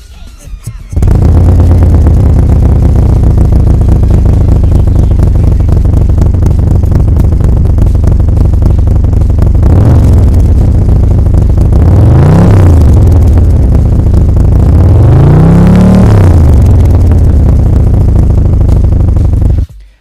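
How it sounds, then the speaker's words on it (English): Harley-Davidson Road King Special cold start with a Chromeworks Dominator exhaust and performance baffles, firing up into a very loud, deep, lumpy idle, then a few rising and falling throttle blips before shutting off. "Here's a quick cold start video so you can hear what the Dominator sounds like with the performance baffles."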